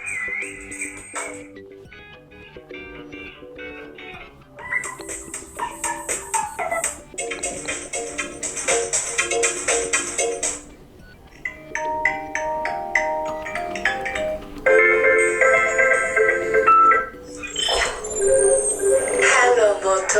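Preset ringtones on a Motorola Moto G9 Plus phone play one after another as short electronic melodies and chimes, each a few seconds long with brief gaps between them.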